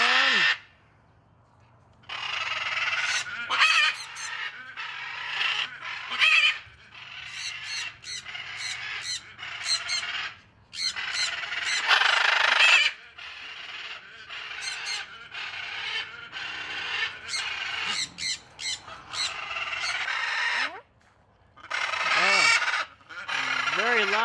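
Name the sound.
very loud birds honking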